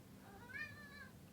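A cat gives one faint, short meow against a quiet background hum, with no talk over it.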